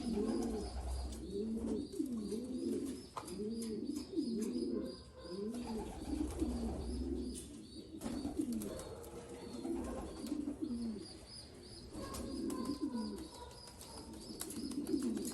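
Pigeons in a loft coo in repeated rolling phrases, fairly close and moderately quiet, with faint chirps and a low background rumble.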